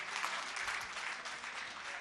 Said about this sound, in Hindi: एक बार जोरदार तालियां आज के इस भव्य कार्यक्रम के लिए।